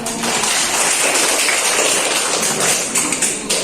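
An audience claps along during a classroom lesson, a dense and loud burst of hand clapping that runs unbroken for a few seconds, with no talking over it.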